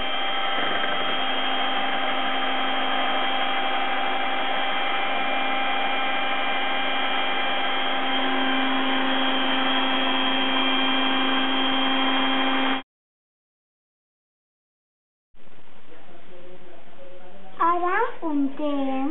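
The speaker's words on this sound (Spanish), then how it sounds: "Ara batim amb la batidora" A steady electric blender motor whirs continuously for several seconds, cuts off abruptly, then starts up again briefly with a voice speaking over it.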